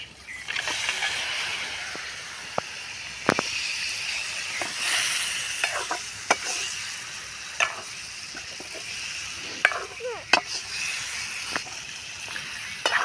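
Mixed fish, including chilapi and other catch plus a crab, frying in a pan over an outdoor cooking fire: steady soft sizzling with scattered clinks and scrapes from stirring and handling, no talk.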